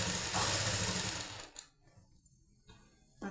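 A sewing machine runs a fast, steady burst of stitching while double-stitching a blouse lining, then drops away to near quiet before briefly starting again at the end.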